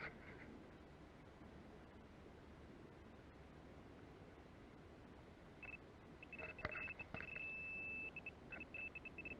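An XP Deus metal detector sweeps a beach at Vias. After several seconds of steady wind-like hiss, it starts giving a clear, high, steady electronic tone that repeats and holds, with short breaks, to the end.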